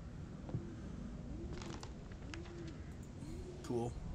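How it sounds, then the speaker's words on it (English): A dove-like bird in a video game set in 1958 Russia gives several soft, low cooing calls in a repeating rhythm, faint against a steady ambient background, with a brief chirp near the end. "That bird."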